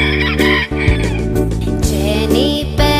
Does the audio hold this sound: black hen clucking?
yes